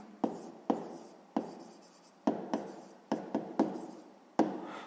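Pen strokes on paper while writing out a sixth-grade math exercise, a series of distinct taps and short scratching strokes at irregular intervals, close and fairly quiet with no talking.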